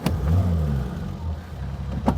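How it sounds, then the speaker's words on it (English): A Triumph Vitesse 2-litre straight-six runs nearby with a smooth, low burble, rising briefly as if revved before settling into a steady idle. "Lovely smooth 6-cylinder burble."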